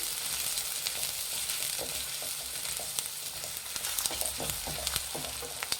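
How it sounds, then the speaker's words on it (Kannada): Chopped onions sizzle steadily in hot oil in a pan for egg bhurji, a dense continuous frying hiss with occasional stirring clicks and pops, close and alone without talk. "ಈರುಳ್ಳಿ ಚೆನ್ನಾಗಿ ಫ್ರೈ ಮಾಡಿ ಎಣ್ಣೆಯಲ್ಲಿ"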